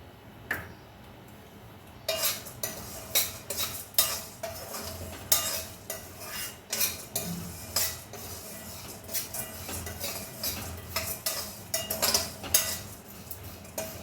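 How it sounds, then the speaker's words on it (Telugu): Dried red chillies being stir-roasted in a pan for chilli powder: close, irregular scraping and clinking of a metal spoon against the pan, repeated quickly throughout with a faint background hiss and no talk. "వేగేంత వరకు మంచిగా మాడకుండా కలుపుకుంటూ వేయించుకోవాలి"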